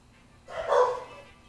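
A single dog bark sounds in a room, one short, fairly loud woof rising out of a faint steady hum and then fading.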